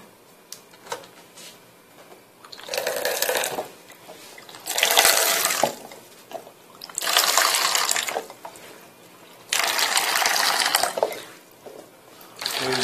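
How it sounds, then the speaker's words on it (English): Water is pumped into a pot during a leak test: repeated surges of rushing, splashing water, each lasting a couple of seconds, separated by quieter gaps with faint clunks from the pump. "we're pumping to see if there is any sign of leaks on pump number 1"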